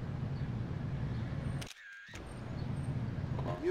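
A camera flash fires in GTA Liberty City Stories, a brief mechanical click and whine that cuts sharply through a steady low in-game drone, with a clear gap of silence around the shutter.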